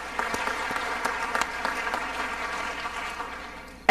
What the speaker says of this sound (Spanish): Gran aplauso entonces para el presidente.